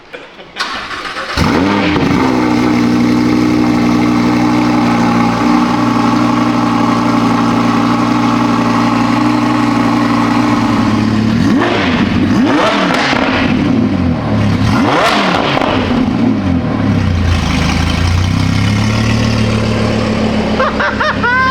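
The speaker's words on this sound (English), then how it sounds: "put the exhaust back on, and we're gonna hear the full system in its glory" A straight-piped Lamborghini with high-flow cats removed starts up after a short pause, settling into a loud, steady burbling idle, then blips the throttle in a few sharp revs near the end, close and alone.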